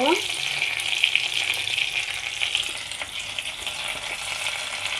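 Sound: frying chopped onions with bay leaves

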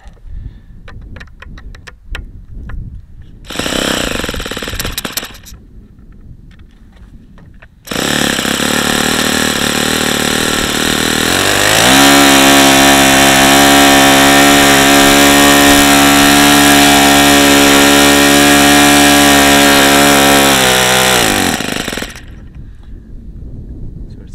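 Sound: Saito FA-45 model airplane engine running

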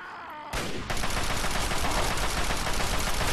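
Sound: gunfire in video game Fallout 3

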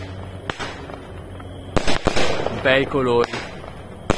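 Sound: Red Star 16-shot 20 mm fireworks battery

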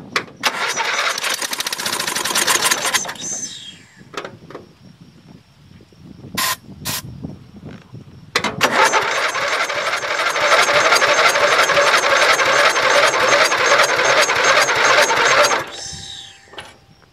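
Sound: Dynamark engine cranking after carb cleaner spray

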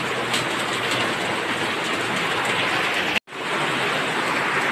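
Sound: heavy rain

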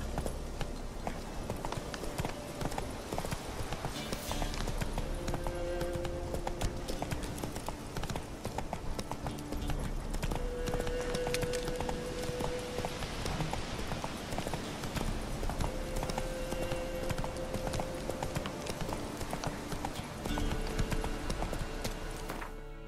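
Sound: horse galloping in the video game The Witcher 3

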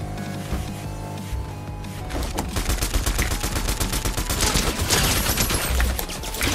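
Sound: submachine gun fire in a video game

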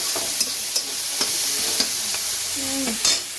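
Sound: chopped vegetables being stirred and fried in oil

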